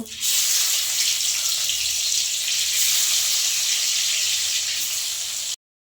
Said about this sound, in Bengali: বাকি মাছটা আমি একই রকমভাবে ভেজে নেব